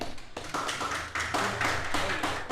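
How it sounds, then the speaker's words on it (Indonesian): A live television studio audience applauds for a guest in Banyuwangi, a steady dense patter of many hands clapping close by, filling the whole stretch without a break. "tepuk tangan yang meriah untuk Mas Tony"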